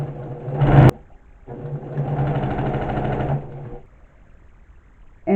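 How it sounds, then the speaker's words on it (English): A sewing machine stitches pieced Carpenter Star quilt sections, a brief loud burst followed by a longer steady whirring run of about two seconds, close-up, with quiet gaps around it. "I know the sewing machine's loud."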